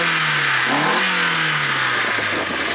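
The engine of a Nissan S14 Kouki runs loud and close, revving up, dropping back, then holding a steady drone over a layer of hissing broadband noise, with no talking.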